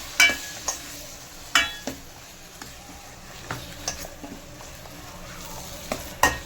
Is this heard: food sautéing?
yes